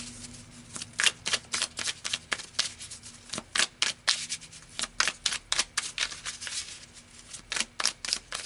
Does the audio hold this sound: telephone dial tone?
no